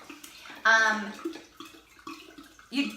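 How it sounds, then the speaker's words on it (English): Wine from a magnum bottle glugs and splashes into a large pitcher in bursts, with a louder gush near the start and a shorter pour at the end, close up, with some faint voice between pours. "I'm pouring it into my pitcher here."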